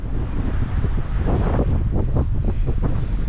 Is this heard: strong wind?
yes